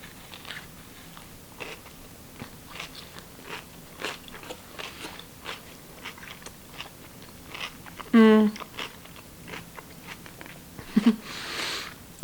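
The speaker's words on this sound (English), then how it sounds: "I don't know if you can hear me crunching" Someone eating vegetarian food as a tourist in New York, with crisp crunching bites and chewing close to the mic, irregular and fairly quiet, broken by a brief voice sound.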